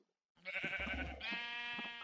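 Sheep in a video game farm barn bleating twice after a moment of silence, two close, clear, wavering bleats back to back with no talk.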